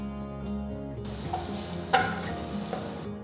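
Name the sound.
green chillies and ginger sautéing in a pan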